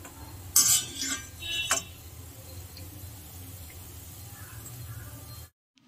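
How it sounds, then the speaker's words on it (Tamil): Crispy fried kalkals, a Goan Christmas sweet, are tipped into another vessel, with a couple of bright clattering rattles early on followed by quieter background hiss. "ஸோ நம்ம இப்போ எடுத்து இன்னொரு பாத்திரத்தில் ஆட் பண்ணிடலாம்."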